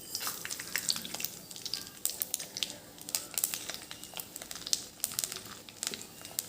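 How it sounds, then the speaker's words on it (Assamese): Three dry red chillies and panch phoron frying in a cup of mustard oil, a soft, uneven crackle and spatter with scattered pops, fairly quiet and without any talk. "এইখিনি ভালকৈ ভাজি থাকিম।"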